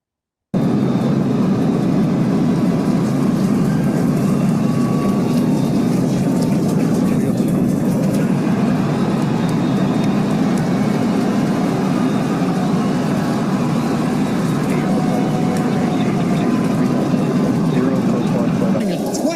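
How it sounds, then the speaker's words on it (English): Saturn V rocket engines thrusting during launch, a steady, loud, broadband roar with deep rumble that holds unbroken throughout. "The thrust of the Saturn V heading to space."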